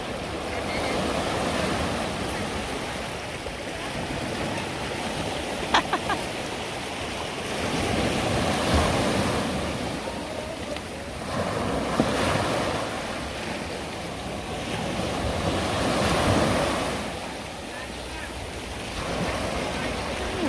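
Rough sea surf rolling in at Fisherman's Beach in Ocho Rios, St. Ann, Jamaica, a steady broad wash of breaking waves swelling and easing every few seconds, with wind buffeting the microphone.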